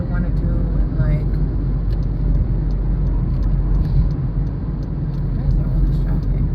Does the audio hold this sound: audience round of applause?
no